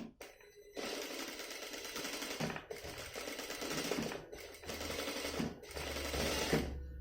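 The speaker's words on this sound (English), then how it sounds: "you should sew along the curve a little bit like this" A sewing machine stitches along the curved hem of a blouse in bursts of rapid mechanical clatter, stopping and starting several times, fairly faint and close, with no talking.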